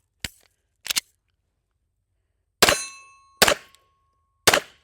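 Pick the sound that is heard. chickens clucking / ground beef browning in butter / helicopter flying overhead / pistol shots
pistol shots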